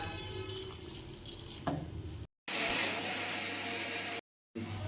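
Water runs steadily from a tap into a pot while chicken puli munchi, a Mangalore-style dish, is cooking, a close continuous splashing rush that cuts out briefly twice.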